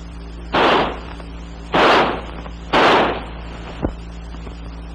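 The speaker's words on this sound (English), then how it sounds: "By closing the bolt and turning the selector lever to semi, the rifle will fire semi-automatically" An XM16E1 5.56mm rifle firing semi-automatically, three sharp separate shots about a second apart, loud and close, followed by a fainter click.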